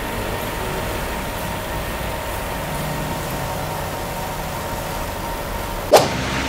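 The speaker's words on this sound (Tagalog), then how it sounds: "sinindihan ko yung makina." A car engine runs steadily at idle during a radiator coolant flush, a constant low rumble at moderate level, broken once near the end by a short sharp knock.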